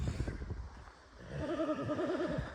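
A mare offered for sale whinnies clearly, a wavering neigh rising midway after softer snorting and shuffling, at moderate distance outdoors with no talk over it.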